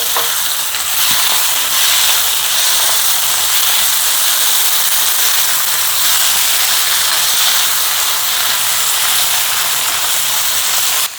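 Mussels hit a hot pan and sizzle loudly, a dense, steady hiss of frying that stays strong and close throughout with no talking.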